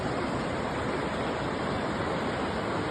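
Water in Devil's Creek rushes below a metal bridge grate, a constant dense broadband roar, loud and near, with no breaks or voices.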